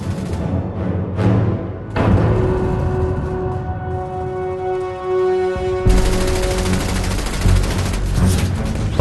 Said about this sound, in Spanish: A 1200 disparos por minuto su velocidad superaba a la de las ametralladoras aliadas más parecidas